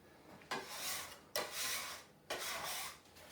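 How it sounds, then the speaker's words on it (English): A table scraper drags across a floured worktop in three firm, rasping strokes, each starting abruptly and fading out, close and clear with no talking. "Quickly scrape all the flour off."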